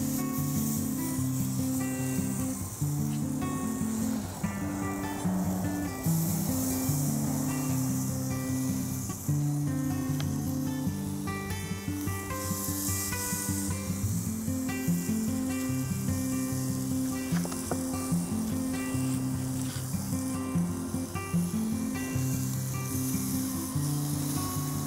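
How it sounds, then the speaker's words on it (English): Chicken kabobs sizzle on a hot Watchman stove, a steady, close hiss and crackle of frying meat that runs throughout, with music playing underneath. "Hear that sizzle going on."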